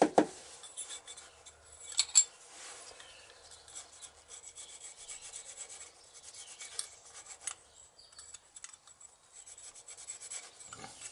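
A sharp hand scraper rasps old gaskets off a motorcycle engine in a quiet workshop, making faint, irregular scratching strokes with a few louder scrapes and no voices.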